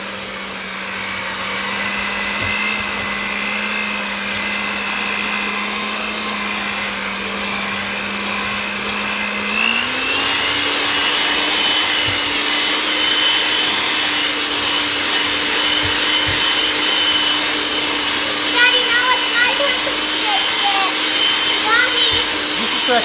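An electric mixer whirs steadily through powdered sugar frosting for a chocolate Texas sheet cake, its motor tone stepping up partway through, with a child and an adult talking over the hum.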